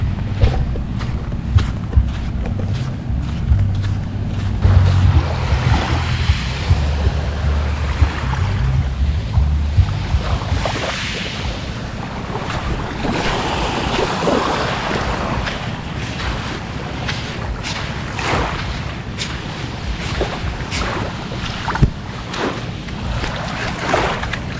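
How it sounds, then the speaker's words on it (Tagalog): Sea waves and gusting wind along the shore at Dingalan, Aurora, a steady broadband roar of surf with heavy low wind rumble buffeting the microphone throughout, no voices. "Ito ang dagat."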